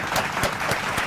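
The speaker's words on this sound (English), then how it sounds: "Round of applause to Sonny." Applause from a student audience at a tertiary entrance exam debate, welcoming a judge onto the panel; steady dense clapping with pulsing swells, fairly close and continuous throughout the short stretch.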